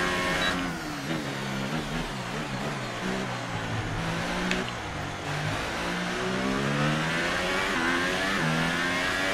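An F1 car engine in F1 2018 during qualifying at the Italian circuit, trailing a Renault. The engine screams at high pitch, repeatedly revving up and shifting in sweeping rises that continue throughout.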